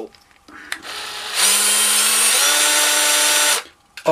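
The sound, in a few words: power drill drilling into Game Boy shell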